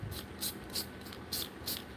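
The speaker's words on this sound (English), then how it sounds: "Just going to spray a little white." Short hisses of white spray paint from a can used for lip painting, about five quick bursts in an even rhythm, close and fairly soft over a low background rumble.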